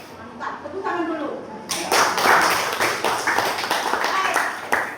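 A classroom group claps together in a dense burst of overlapping hand claps that starts suddenly and carries on steadily, with a voice heard briefly before the clapping begins.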